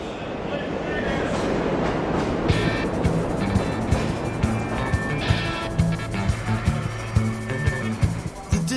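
A London Underground train rumbles loudly and continuously, with rhythmic clickety-clack of wheels on rails and metallic squeals, as recorded in a song.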